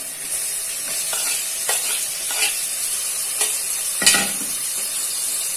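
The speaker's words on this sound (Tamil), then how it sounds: "இப்ப கட் பண்ணி வச்ச தக்காளியை சேர்த்துக்கிறோம்." Chopped tomatoes going into a hot sizzling pan for goat head curry, a steady loud hiss with a few sharp stirring scrapes and splatter bursts, close up and without speech.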